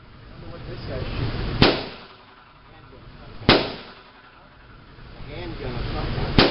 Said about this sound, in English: This guy's shooting.